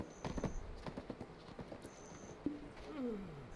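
Horse hooves clip-clop in the Black Desert video game, a steady run of close, distinct footfalls with tonal game sounds layered over them and no talk.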